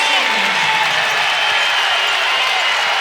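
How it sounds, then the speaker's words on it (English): Crowd noise from a packed arena at a college basketball game in Brookings, South Dakota State hosting NDSU: a broad, steady roar of cheering and applause that fills the whole stretch without letting up. "the crowd is back into it here in Brookings"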